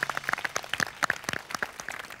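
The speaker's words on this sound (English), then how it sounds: "give yourselves a round of applause" A brigade of chefs in a restaurant kitchen claps for themselves, a short burst of sharp, distinct handclaps from a small group, uneven and close, fading slightly toward the end.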